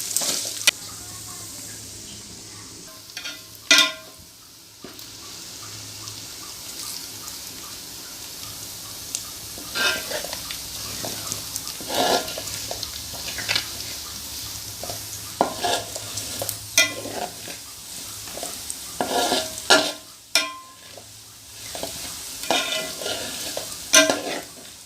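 Prawns are sautéed in a pan for prawn pickle, a continuous soft sizzle broken by repeated clattering scrapes of a spoon stirring them, close up, with bursts of brisk stirring throughout.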